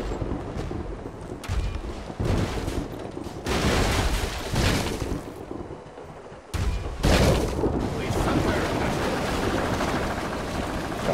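Cannon shots from a pirate ship in The Legend of Pirates Online, a game of naval battles: loud booming blasts in bursts against steady rumbling, with sharp shots near the two-second and seven-second marks.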